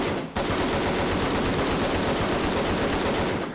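An AKM rifle fires in a VR video game, one loud continuous full-auto burst that starts abruptly and runs almost the whole time.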